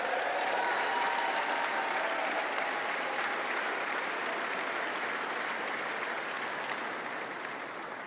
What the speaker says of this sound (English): we need to give them a big round of applause